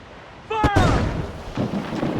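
Ship cannons firing in the pirate naval combat of Assassin's Creed Black Flag: a heavy booming volley bursts out loud and close, then rumbles and crackles into scattered further blasts.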